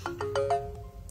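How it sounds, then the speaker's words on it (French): A mobile phone rings nearby with a short melodic ringtone: four quick plucked notes rising in pitch, then a sustained tone that fades, over a low room hum and with no talking. "C'est mon téléphone, c'est rien."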